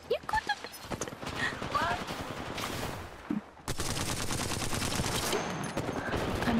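Rapid gunfire from an Apex Legends match, dense bursts of automatic shots running almost continuously, loud and close, with players chatting over it.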